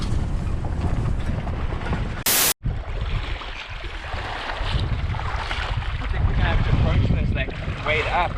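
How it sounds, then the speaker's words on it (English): A strong headwind blasts across a Bahamas shoreline on a bonefishing outing, with loud, continuous rumbling buffets of wind over the microphone and a brief sharp dropout partway through. "The wind is ripping towards us on a headwind pretty heavy"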